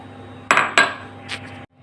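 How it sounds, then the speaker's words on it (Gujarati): Ingredients for a sour gunda and raw mango pickle being dropped one by one into a large metal vessel, giving two sharp clattering impacts close together and a fainter clink after, alone over a low steady kitchen hum. "આપણે એક મોટું વાસણ લઈ લેશું અને આ વાસણમાં બધી વસ્તુ આપણે નાખી દેવાની છે"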